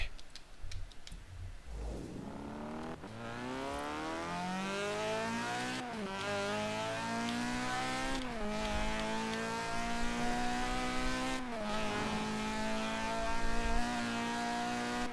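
A Mazda RX-7 with a rotary engine in Forza Horizon 4 accelerates hard, its high buzzing whine climbing in pitch through several quick gear shifts without pause.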